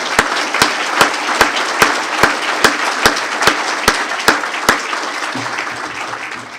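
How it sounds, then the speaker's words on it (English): At the Torrance mayor's State of the City address, an audience applauds first responders with sharp, evenly spaced unison claps over a background of general clapping, loud and close, before the beat stops and the applause fades. "Let's give our first responders a great round of applause."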